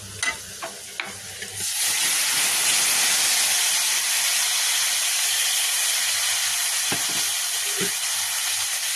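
Boiled papaya dropped into hot mustard oil with browned onion and garlic, bursting into a loud, steady close sizzle and hiss that carries on for several seconds after a few light clatters.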